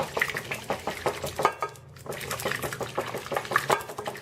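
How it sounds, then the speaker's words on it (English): A meatloaf mixture with crackers is whisked in a bowl, giving a quick rhythmic run of close clicking and scraping strokes. There is a short pause partway through before the brisk whisking resumes. "I give it a little whisk, mix everything up"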